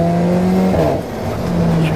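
A 2015 Alfa Romeo 4C engine with a racing exhaust that largely removes the muffler, a loud, raspy close-up drone that dips briefly in pitch and level midway before climbing again.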